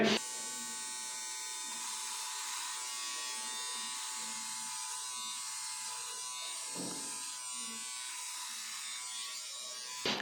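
A Philips 7000 series all-in-one trimmer hums with a steady, close electric buzz through the whole stretch, rich in high harmonics, while someone shaves with it.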